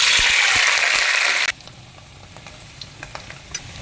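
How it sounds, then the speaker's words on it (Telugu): Paneer fries in refined oil and ghee with a loud, dense sizzle that cuts off abruptly partway, leaving faint scattered clicks and taps in a quiet room. "కొంచెం ఫస్ట్ దీంట్లో పన్నీర్ వేయించుకొని తీసుకుందాం"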